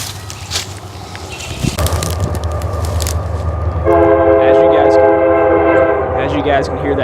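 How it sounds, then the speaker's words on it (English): A train rolls past with heavy rumbling and clatter, then its horn sounds a sustained multi-tone blast over the continuing noise. "As you guys can hear that train coming through"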